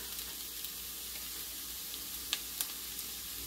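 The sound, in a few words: scrambled eggs sizzling and being stirred in browned butter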